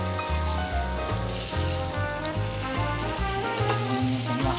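Pork slices sizzling in butter in a pan in a small room, a loud, steady crackle filling the whole stretch with stirring bursts on top.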